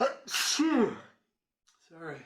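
A single loud, close sneeze bursts out, followed by a pause and a brief apologetic word spoken.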